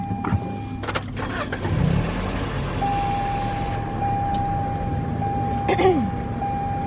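A 2021 Toyota Camry SE starts from inside the cabin: a brief crank and a catch, then a steady low engine hum, with electronic chime tones sounding over it.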